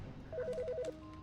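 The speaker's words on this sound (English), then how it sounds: "The fucking phone." A phone rings in the video game Autopsy Simulator, giving a short electronic trill of rapidly alternating tones that lasts about half a second and sits close and clear.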